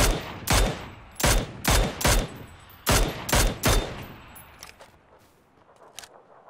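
PUBG gunfire as a rapid string of sharp, loud close-range shots in clustered bursts, fading into a quieter tail of softer distant pops.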